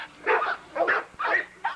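Hammer, a bully breed dog, barking four times in a steady rhythm, loud and close, each bark short and throaty in an outdoor kennel yard.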